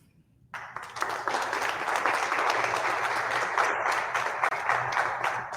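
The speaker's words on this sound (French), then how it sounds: "très, très réaliste, les applaudissements." Sustained applause from an audience at an awards gala, starting abruptly after a brief silence and holding steady and loud throughout.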